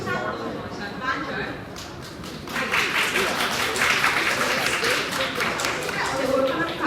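An audience at a Hong Kong space-application creation contest award ceremony breaks into applause, quieter claps building into steadier, fuller clapping that carries on to the end.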